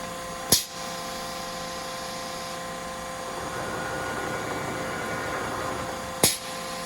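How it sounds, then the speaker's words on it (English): The tool carousel of a Mazak VCN410B vertical machining center rotates in manual mode, giving a steady mechanical whine and hum with a sharp clunk at the start and another as it stops, all close up without speech. "I can move the carousel here in manual mode"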